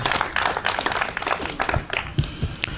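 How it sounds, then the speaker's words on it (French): A crowd at a spoken-word performance event applauding steadily, dense clapping that swells and fades slightly, fairly close and loud with no talking over it. "J'aimerais avoir un tonnerre d'applaudissements pour ces frères s'il vous plaît."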